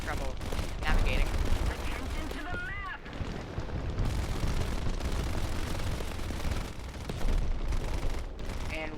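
Aircraft machine guns fire in War Thunder air arcade combat, with loud rattling bursts and crackling impacts over engine roar, and a voice talking throughout.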